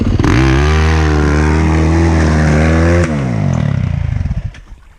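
A dirt bike engine, stuck while climbing a steep hill, is held at a loud, steady high rev for about three seconds, then drops and sputters unevenly before fading out.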